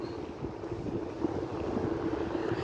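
Steady wind gusts buffet the microphone in a low, continuous rush, with no voices.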